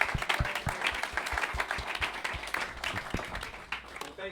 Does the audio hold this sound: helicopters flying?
no